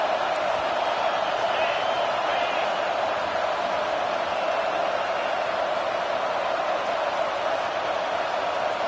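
A large football stadium crowd at a Texas A&M versus USC game roars in a steady, distant wash of noise beneath a commentator's talk.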